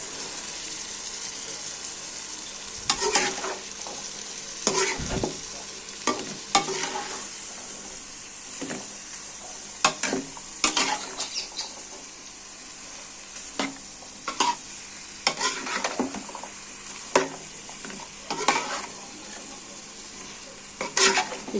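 Carrots stir-fried in a mustard-oil masala, with a continuous close sizzle broken by repeated scraping strokes of a spatula against the pan and occasional louder clacks.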